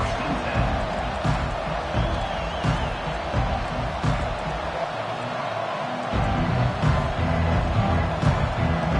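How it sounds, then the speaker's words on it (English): A football stadium crowd roars and cheers continuously, a dense loud wash of voices with swells and scattered shouts, while a commentator talks over it. "They challenge this crowd to bring the energy, and I'd say they're doing that."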